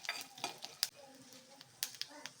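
Cumin, pepper and fenugreek dry-roast in a pan, faint light rattles and scrapes of stirring with a few sharp clicks of a utensil against the pan.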